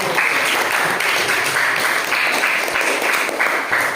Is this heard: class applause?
yes